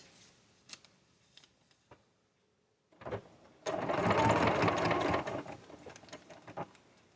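A sewing machine runs in one close, steady burst of stitching through fabric for about two seconds, preceded by soft clicks and handling noises and followed by quieter tapping.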